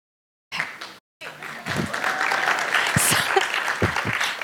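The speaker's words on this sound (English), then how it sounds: "So much clapping." Audience applause at a stage talk, dense sustained clapping from many hands that swells and holds for several seconds after a short gap.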